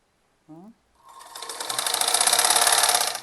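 A sewing machine stitches a kurti, revving up after a brief spoken word into a fast, steady mechanical whirr that grows louder and holds for a couple of seconds, close to the listener.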